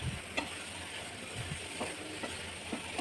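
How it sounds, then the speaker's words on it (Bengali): Jaggery and coconut being stirred together in a pan for modak, a soft continuous sizzle with scattered light scrapes and clicks of the spoon against the pan, steady and close, with no talking. "গুড় আর নারকেলটা আমি একসঙ্গে নেড়ে মিলিয়ে নেব।"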